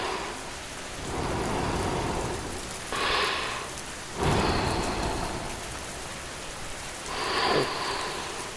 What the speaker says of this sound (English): The rain carries away my worries.